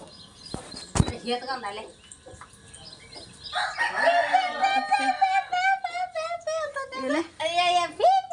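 A rooster crows loudly nearby, and a mother hen with hatched chicks clucks in quick bursts; a sharp knock sounds early, and people talk briefly in the background, in a North Karnataka village.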